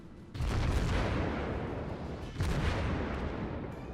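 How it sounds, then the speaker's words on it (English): Cruiser guns fire in World of Warships from a Konigsberg: two heavy booming salvos roll out one after the other, each leaving a long rumbling tail, loud and close with no talk over them. "Let's see if I can land some shots on that guy"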